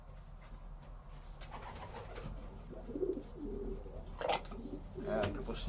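A pigeon squab being hand-fed makes soft cooing and squeaky begging calls in short bursts, close by amid quiet rustling.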